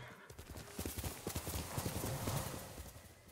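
Rhythmic hoofbeats of a horse galloping and jumping in the video game Ghost of Tsushima, a quick clip-clop pattern with a brief whinny, fairly close and clear.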